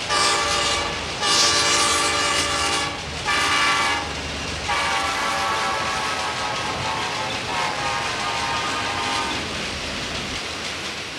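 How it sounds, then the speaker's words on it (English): A train passes close by with a loud, sustained horn blowing in several long blasts over a continuous rumbling roar of the rolling cars. "They blow their horn to warn you that they're coming"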